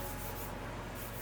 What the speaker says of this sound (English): And now back to sanding,